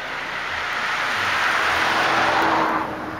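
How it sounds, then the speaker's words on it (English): A truck passes on a quiet lakeside road by St. Mary's Lake on Salt Spring Island, its tire and engine rumble swelling to a peak midway and fading away, steady and moderately near. "A truck just went by"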